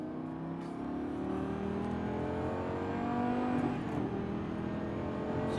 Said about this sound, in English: Yeah, give a little throttle here. A little more. Come out wide. Accelerate out.